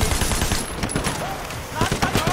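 Rapid machine gun bursts in the video game Sleeping Dogs: Definitive Edition, loud, close, dense rattling volleys with a short lull midway before firing picks up again.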